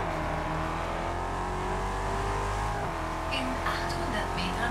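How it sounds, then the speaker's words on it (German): Ford GT's V8 engine in the racing game Test Drive Unlimited: Solar Crown, holding a loud, steady drone that climbs and falls as it revs, with a brief tire squeal near the end and someone talking over it. "Schöner Ami V8 hier."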